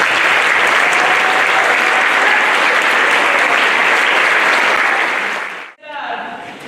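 Loud, steady applause from a school concert audience for 5th to 12th grade band students, a dense wash of clapping that holds evenly and then stops abruptly near the end.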